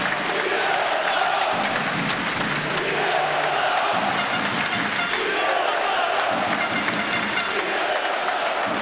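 A packed sports hall crowd in Skopje roars, claps and cheers for Kire Lazarov during a handball Champions League match between Metalurg and Barcelona, a dense, loud, unbroken wall of noise filling the whole stretch.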